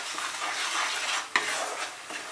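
Spice paste with sugar, black pepper and garam masala sizzles and is stirred in a pan over a medium flame for mutton liver curry, a steady close frying hiss with a single sharp scrape of the spatula.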